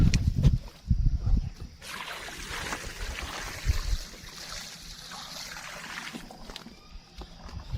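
Water poured from a bucket into a farm well dig about five meters deep, with a few heavy thumps and sloshes, then a long splashing, trickling pour that fades out near the end.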